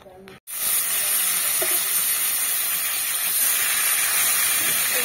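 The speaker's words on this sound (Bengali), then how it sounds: "মাছটা ভাজা হয়ে যাচ্ছে।" A fish head fries in hot oil in a home kitchen pan, giving a loud, steady, close sizzle that bursts in suddenly and carries on without pause, with a few faint knocks underneath.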